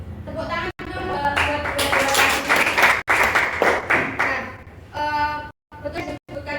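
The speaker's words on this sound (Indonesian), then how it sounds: "Tepuk tangan dulu buat" Classroom applause during a structured-programming micro-teaching session, a few seconds of close, dense clapping rising under and between talking voices.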